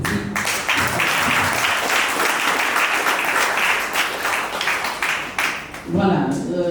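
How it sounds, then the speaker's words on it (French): Guests at a civil wedding ceremony break into sustained applause, dense and loud for several seconds before it fades and a voice resumes speaking. "Et on applaudit."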